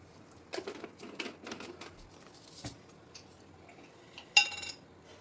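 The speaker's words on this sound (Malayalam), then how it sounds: "ഇത് ഞാൻ നെയ്യിലാണ് കടുക് വറുത്തിടുന്നത്." Mustard seeds spluttering in hot ghee while tempering a pineapple curry: scattered sharp pops and crackles, a few louder bursts and a final bright clink, fairly close with no talk.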